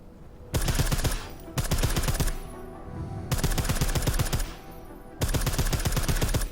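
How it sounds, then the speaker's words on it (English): Silenced weapons fire in bursts on a firing range in the video game Deus Ex: Mankind Divided, with rapid suppressed shots coming in four loud, evenly spaced bursts separated by short pauses. "I like how silencers reduce sound, but the trade-off is less stopping power, less damage per hit"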